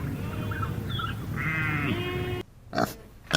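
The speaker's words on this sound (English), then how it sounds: "pig," A pig grunts and squeals close by in a rough, throaty run lasting about two seconds, followed by a brief pause and a couple of short snorting grunts.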